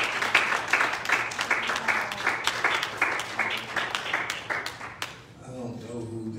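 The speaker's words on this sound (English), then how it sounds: "Will you clap your hands unto the Lord?" Congregation clapping hands in rhythm during a church service, a steady, fairly loud beat of claps through most of the stretch, with voices underneath, tapering off near the end as a voice takes over.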